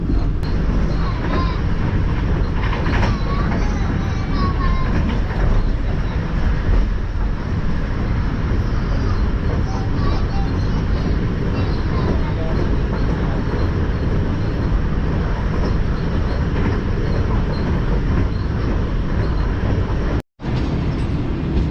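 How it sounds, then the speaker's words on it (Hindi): The Tezgam passenger train runs along the rails with a loud, constant rumble and rattle heard from on board, broken by one brief dropout near the end. "हमारी ट्रेन को जो है वो डिपार्ट करवा दिया गया है घक्कर मंडी से"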